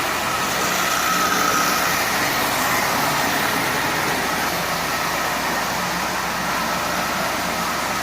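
A Marx 999 tin litho toy locomotive with an eight-wheel tender speeds around its track at half power, giving a continuous, even metallic whir and rattle close by, with no voices.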